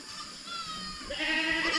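Goat bleating as it cries after being left behind by its companion, one drawn-out wavering call that gets louder toward the end, close by.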